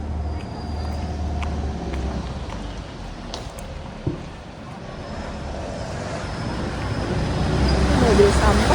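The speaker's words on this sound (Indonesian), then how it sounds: "Mobil sampah guys, gede banget ya" A large garbage truck passes along a residential neighbourhood street. Its low rumble swells toward the end over steady traffic noise, with voices talking.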